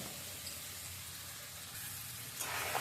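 Fish and onion frying together in a pan and being stirred, a faint steady sizzle with a brief louder scrape near the end.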